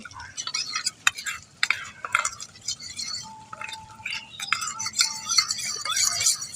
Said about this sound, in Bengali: এর মধ্যে একটু অল্প করে জল দিয়ে ভালো করে মিশিয়ে নেব